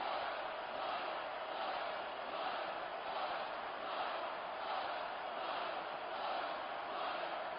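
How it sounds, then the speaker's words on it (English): A steady, dense roar of cheering arena crowd from the wrestling video game WWE SmackDown! vs RAW 2006, loud and continuous with gentle swells and no break throughout. "I can't remember the last time I seen a crowd so pumped up."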